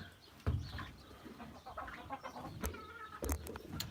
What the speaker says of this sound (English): I don't know if you guys can see the chickens over here, all waiting for the feed.